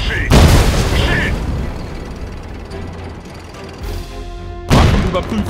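Gunfire and explosions in the tank battle video game Road to Valor, with sharp booming blasts at the start and end and a ringing, fading tail in between, loud and close.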